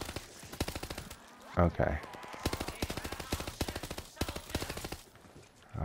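Rapid automatic gunfire in Call of Duty: Vanguard zombies plays as repeated fast bursts of shots across the clip, with brief talking in between.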